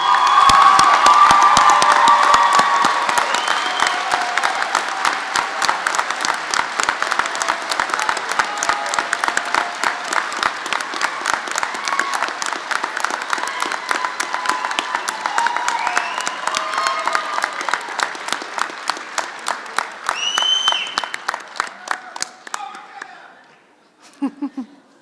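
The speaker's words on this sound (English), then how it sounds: "Let's have a round of applause for those who have supported you." Graduation audience at a community college commencement in an auditorium breaks into sustained applause, a dense crowd clapping with some cheers and whoops that thins into scattered claps and stops after about twenty-four seconds.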